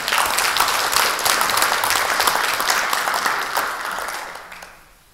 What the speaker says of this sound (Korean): 여러분들 우리 선배들한테 박수 한번 보내주세요.